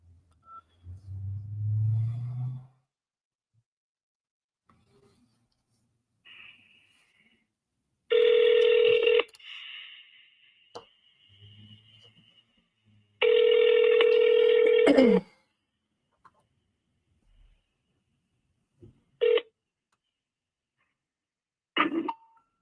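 A telephone number is dialed as a run of keypad tones, followed by two long ringback tones and then a few short beeps, with quiet pauses between them and no talking.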